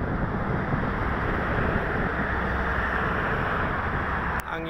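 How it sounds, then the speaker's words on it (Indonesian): Strong wind blusters beside the Jakarta-Cikampek toll road at midday, a constant broadband rush buffeting the microphone throughout, with a brief click near the end. "Anginnya di sini cukup lumayan besar ya pada siang ini"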